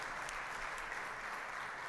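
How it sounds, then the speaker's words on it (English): An audience at a talk on chess and artificial intelligence gives a round of applause, a soft, even wash of many hands clapping at a distance with no speech over it. "Please give us a big round of applause."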